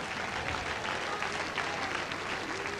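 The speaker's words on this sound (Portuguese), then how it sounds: "celebre o seu triunfo com um lindo aplauso nesta noite para Deus" A congregation at a night church service applauds to praise God, a dense steady roar of many hands clapping throughout, close and full.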